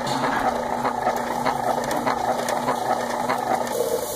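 Electric barbecue grill's rotisserie mechanism runs with meat roasting, giving a steady mechanical whirring and faint rhythmic ratcheting clicks, continuous and moderately close with no talk.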